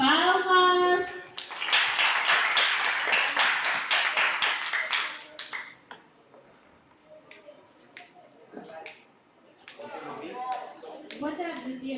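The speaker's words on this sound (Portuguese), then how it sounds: "Palmas!" Audience applause at the Kulemba children's and youth book festival (FLIK 2025): a dense burst of clapping for about five seconds, then fading into scattered voices and speech.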